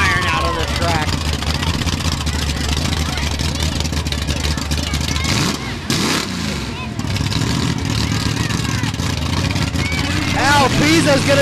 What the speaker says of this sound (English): The truck just mutilating everything in its path.